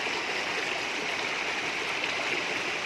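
Steady broadband rush of a mountain river tumbling over rocks in the Sierra Madre, continuous and close, with no voices over it.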